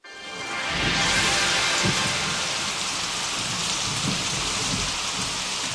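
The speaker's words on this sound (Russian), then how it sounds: "Яңгыр – это дождь." Steady, heavy rain pours continuously, with low rumbles of thunder rolling underneath throughout.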